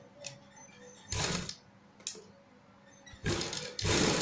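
Close by, a sewing machine stitches fabric for a designer neckline in three short bursts of rapid mechanical whirring, each about half a second long, separated by quiet pauses and a few faint clicks.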